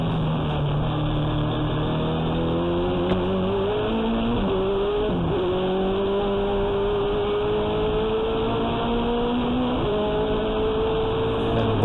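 A race car engine screams at high, steady revs, the pitch climbing gradually as it holds full speed, loud and continuous, topping out at 266 km/h flat through turn 1 at World Time Attack Challenge 2018.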